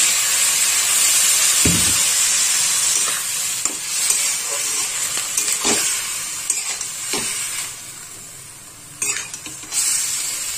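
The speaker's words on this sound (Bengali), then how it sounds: "অল্প একটু জল দিয়ে কষাবো, না তো মশলাটা পুড়ে যাবে।" Spice paste sautéing in a pan with a splash of water, giving a loud continuous sizzle and hiss broken by repeated scraping strokes of a spatula.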